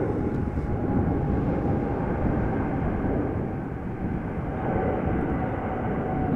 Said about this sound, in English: 777 in the SkyTeam livery taking off from center.